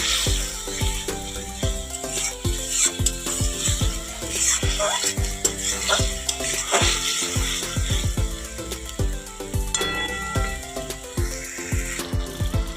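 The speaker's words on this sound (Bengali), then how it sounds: "মশলাটাকে কষিয়ে নেব ভালো করে" Spice paste for a potol chingri (pointed gourd and prawn) curry is stirred and sautéed in a pan, with continuous sizzling and repeated scraping clatters of a spatula against the metal, fairly close and steady throughout, with no talking.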